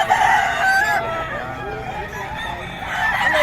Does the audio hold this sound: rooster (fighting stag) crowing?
yes